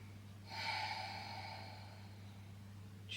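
A slow, deep inhalation during a gentle beginner Pilates class, heard close and soft over a steady low hum, drawn in smoothly for about two seconds before tapering away.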